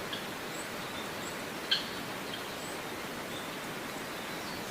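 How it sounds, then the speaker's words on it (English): Faint steady wind hiss fills the background, with a few soft, distant bird chirps and one brief higher call standing out near the middle, no voices present. "What do with this like wind and like bird background noise?"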